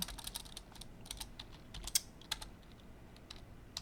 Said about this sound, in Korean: 이것을 카피를 해서 컨트롤 C V를 해주고 얘는 F2 눌러서